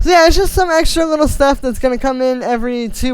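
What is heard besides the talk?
No everyday noises stand out.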